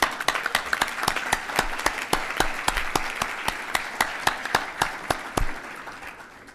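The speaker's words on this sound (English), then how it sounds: "Big round of applause, please." A lunch plenary audience at a dental association gathering gives steady applause. Hand claps are clearly audible in a fairly regular rhythm over a dense crowd wash, and the clapping continues strongly for several seconds.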